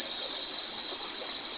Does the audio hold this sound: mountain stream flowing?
yes